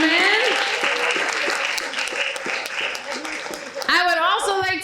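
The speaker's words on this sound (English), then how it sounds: "Let's give our hosts and hostesses a round warm of applause" A round of applause for hosts and hostesses at an oratorical contest and art competition, a steady wash of many hands clapping through the whole stretch while an announcer's voice talks over it.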